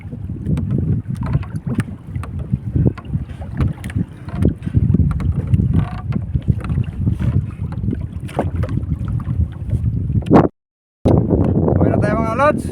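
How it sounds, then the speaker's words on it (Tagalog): Heavy wind buffets a small boat, with roaring gusts and water splashing throughout. A brief dropout occurs near the end. "Mahangin masyado, hindi mapigilan yung bangka."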